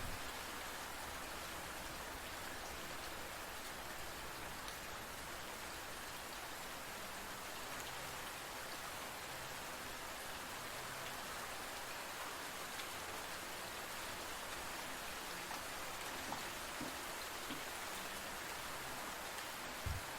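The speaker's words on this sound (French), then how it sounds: "concentrez-vous sur le rythme simple et répétitif de la pluie qui tombe" Steady rain falls in an even, unbroken hiss that stays soft and constant throughout, with no voices or other sounds.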